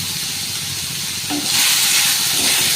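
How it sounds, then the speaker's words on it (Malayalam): Curry leaves drop into hot oil for a prawn roast, a soft hiss that suddenly swells into a louder, brighter sizzle partway through, with no talking. "കുറച്ച് കറിവേപ്പില ഇട്ട് കൊടുക്കാം"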